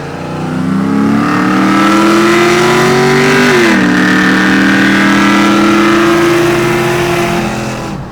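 A turbocharged V6 Honda Accord accelerates hard in a roll race, its loud, close engine note climbing steadily, dropping briefly at a gear change, then rising again before easing off.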